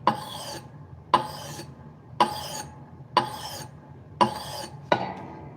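A hatchet drawn across a 1000 grit whetstone in six evenly spaced rasping strokes, each a sharp scrape that fades before the next, close up and alone.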